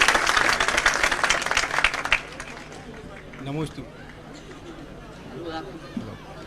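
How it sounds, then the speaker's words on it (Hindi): A gathering at a Sudha Sagar Ji Maharaj religious program gives a quick round of loud clapping that stops after about two seconds, followed by quiet murmuring voices in the room. "जनवाणी चैनल वालों के लिए एक बार जोरदार तालियां सभी लोग जरूर बजा देंगे"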